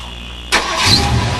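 A Ford Fairmont car engine starts abruptly with a burst of cranking that catches and settles into a steady, loud idle rumble close by, with no talking.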